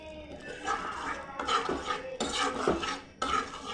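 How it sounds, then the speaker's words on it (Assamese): Fish curry ingredients seasoned with turmeric and salt are stir-fried in a metal pan, with a steady, close scraping and clanking of a spatula and a faint sizzle underneath. "মই আকৌ এনেকৈ 2-3 মিনিটমান ভাজি থাকিম"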